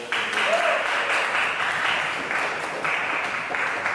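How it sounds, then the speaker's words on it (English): A crowd at a Nigerian student association inauguration in Hainan gives a round of applause, a dense, steady wash of clapping with a faint voice briefly audible beneath. "Please, a round of applause."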